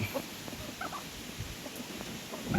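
Chickens in a coop being cleaned and readied for laying hens give soft scattered clucks, short murmuring calls from several birds at low level against a quiet background.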